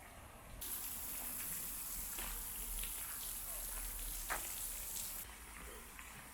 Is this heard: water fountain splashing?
yes